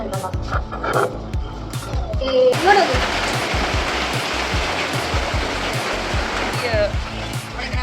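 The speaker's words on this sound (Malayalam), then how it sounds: "പുറത്ത് നല്ല മഴയാണ്" Heavy rain hisses in a dense wash, growing fuller after a few seconds, with voices and occasional sounds over it.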